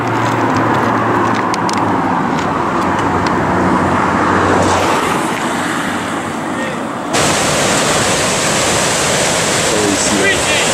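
A car passes on a mountain road beside a rushing torrent, its engine rumble swelling and fading close by over a loud, constant roar of water.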